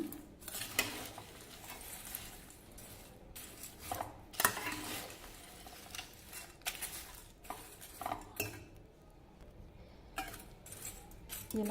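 Ingredients for a homemade snack mixture are tossed together in a vessel, with irregular metallic clinks, scrapes and rattles from utensil and pot, fairly quiet, with faint talk in the background.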